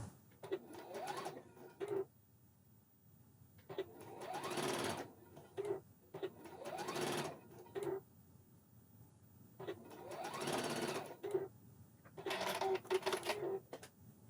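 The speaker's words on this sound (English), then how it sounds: "We are going to top stitch it using the cover stitch" A Juki MCS1500 coverstitch machine top-stitching narrow elastic onto stretch knickers, running in several short whirring bursts separated by pauses, close and fairly loud.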